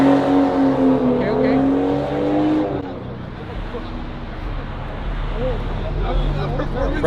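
A lowrider car pulling away from a car meet, a mid-level engine rumble rising and fading under loud chatter and shouting from nearby people.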